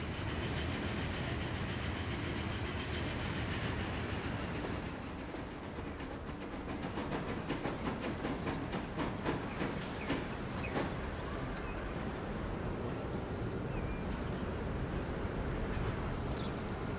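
A passenger train in the video game Transport Fever 2 rolls along its rails with a continuous rumble, faint rhythmic wheel clacks and a thin metallic whine, heard alone at moderate volume.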